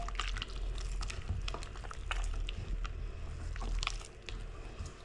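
Gram flour batter for boondi being stirred with water by hand, a continuous wet squelching and slapping with irregular sticky clicks, close and steady.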